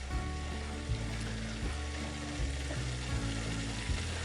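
Sauce thickened with cornstarch simmers in a Dutch oven, a soft, low bubbling and gentle sizzle with faint stirring, fairly quiet and steady with no talking.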